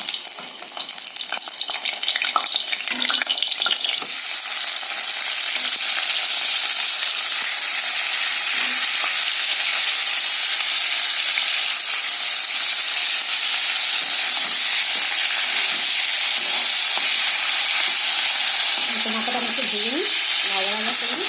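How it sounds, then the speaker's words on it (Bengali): A hilsa fish head sizzles in hot mustard oil in a kadai, a loud, continuous hiss and spatter that swells after a brief quieter start, with a faint voice near the end. "আমি এবার ইলিশ মাছের মাথাটা ভেজে নেব"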